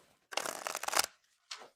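A tarot card deck being shuffled up close: a quick riffling flutter of cards lasting under a second, then a brief softer shuffle after a pause.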